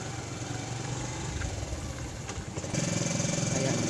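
A motorcycle engine idles close by with a steady low chugging rumble, its pitch and loudness stepping up slightly toward the end.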